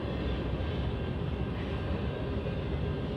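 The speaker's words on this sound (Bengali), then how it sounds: "এই যে দেখা যাচ্ছে অনেকগুলো মাল এবং তেল নিয়ে তারা এই ট্রেনটা অন্য স্টেট থেকে যেমন মিশিগানে আসে।" A long freight train loaded with goods and oil cars in Michigan rumbles by as a steady, low, continuous roar from some distance, fairly quiet, without talk.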